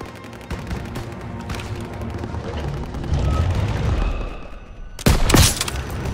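Gunfire rattles through a Call of Duty WW2 street battle, steady distant bursts of shots and rumbling blasts building in the middle, then a sharp, close, loud shot cracks near the end.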